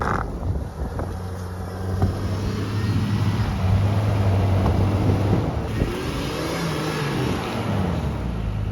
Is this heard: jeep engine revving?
yes